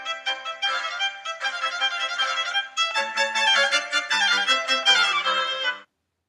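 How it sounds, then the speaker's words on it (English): Sustained consonant chord example of stable harmony, several held tones sounding together in steady, smooth blocks that shift slightly over about six seconds before stopping, played alone at moderate level. "So, an example of consonants"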